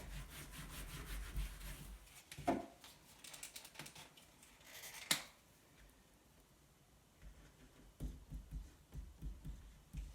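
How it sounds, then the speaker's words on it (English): A board eraser wipes written maths work off a board in faint, uneven rubbing strokes, with a sharper knock partway through and a few soft scrubbing bursts near the end. "so I'll erase that work out of the way"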